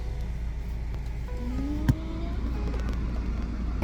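Car driving on the way to a beach in Western Australia, a steady low engine and road rumble from inside the vehicle, with a single sharp knock partway through.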